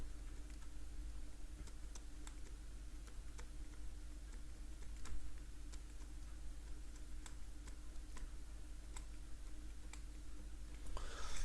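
Faint, scattered taps and clicks of math notation being written on a board, soft irregular strikes over a quiet room hum.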